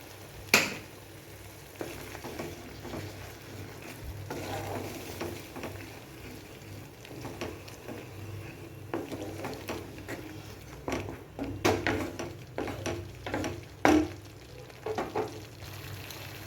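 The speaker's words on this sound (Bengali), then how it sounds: "আমার এই মশলার বাটিটার মধ্যে কিছুটা মশলা লেগেছিল, তাই আমি এটা ধুয়ে এই জলটা দিয়ে দেবো।" Paneer kofta masala frying in a pan, a steady soft sizzle with sharp crackles and spatters as water is added, along with occasional clinks of a spoon against the pan.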